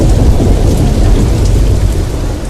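Heavy rain pours down in northeastern Nigeria while thunder rumbles, a loud, dense wash of rainfall over a deep, continuous low roll with no voices.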